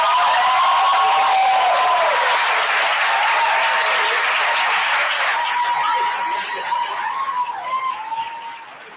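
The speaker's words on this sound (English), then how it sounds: "Let's give them an applause before we call them here on the stage." An audience at a graduation ceremony applauds in a sustained, dense wash of clapping with some cheers and whistles, gradually thinning and fading toward the end.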